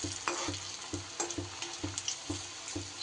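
Pieces of pumpkin dhoka fry in very hot oil, giving a faint, continuous sizzle broken by regular soft knocks from a stirring utensil against the pan, with nobody talking.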